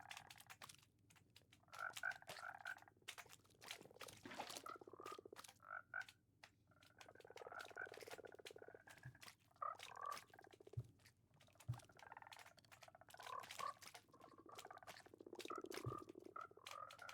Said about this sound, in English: Come on, frogs.